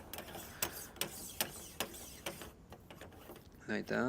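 Rubber gasket and nut being hand-tightened onto a shower base drain, giving a run of sharp clicking, ratchet-like ticks at an uneven rhythm close by, with a voice breaking in near the end.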